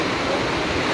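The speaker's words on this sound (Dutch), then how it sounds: "het water blijft maar stromen daar" Steady, dense rushing of streaming water mixed with strong wind buffeting and rain, loud and continuous with no pauses.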